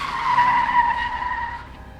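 Car tires skid under hard braking, giving a loud, sustained squeal that holds for about a second and a half before tapering off, alone.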